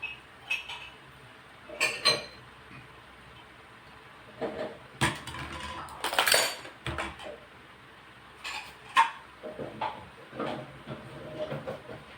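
Dishes and cutlery clink and clatter in short, scattered bursts as items are set down and put away, with quiet pauses between.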